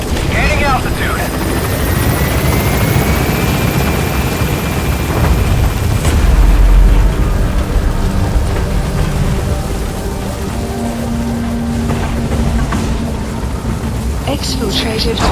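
Pequod, a transport helicopter in Metal Gear Solid V: The Phantom Pain, lifts off from a landing zone with a loud, steady rotor roar and engine whine that fills the whole stretch, over a rumbling low-end backdrop.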